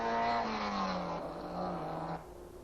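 A 1957 Formula 1 racing car at Reims roars loudly nearby, its high engine note falling slightly as it passes, then dropping away toward the end.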